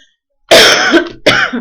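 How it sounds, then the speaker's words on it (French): A woman gives two harsh coughs close by, the first longer, the second following after a short pause. "Oui, moi je tousse un peu, je sais."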